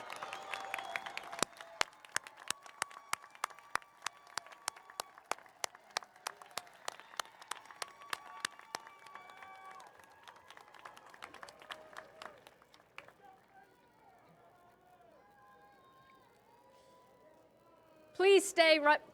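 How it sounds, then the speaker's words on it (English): Commencement crowd at a 2022 college graduation claps and cheers while standing, a dense wash of applause with many sharp hand claps, fading toward the end before a brief louder burst. "give them standing a much-deserved round of applause and thanks"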